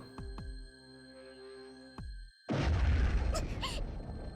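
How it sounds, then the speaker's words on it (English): A deep explosion erupts in the video game Anonymous;Code, breaking in suddenly after a sharp low impact and quiet electronic tones, then rumbling loudly with crackling debris and whooshes to the end. "Explosion."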